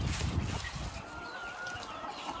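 Chickens and a rooster cluck softly in a coop, with a few close, low clucks and faint bird calls over a quiet farmyard background.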